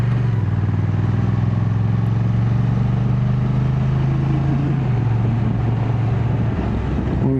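A 2025 Honda NT1100 DCT motorcycle carrying two riders pulls away in second gear. The engine hum rises steadily, then dips as the gearbox shifts, under constant loud wind rush, with no talking.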